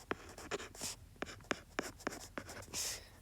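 A pen or pencil writes on a paper worksheet, giving a run of close, distinct scratching strokes in an irregular rhythm, each stroke crisp and short, with no voices.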